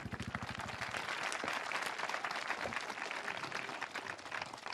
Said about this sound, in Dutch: Applaus, meisjes.